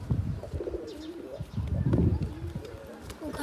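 Pigeons coo and chirp close by while being fed millet grain, with soft rustling and a voice speaking at times.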